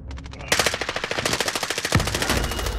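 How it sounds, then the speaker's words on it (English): Automatic rifle fire in the video game Call of Duty Warzone comes as rapid loud bursts, a quick volley and then a longer sustained stream of shots with a heavy thud partway through. "Nick, shoot him, shoot him."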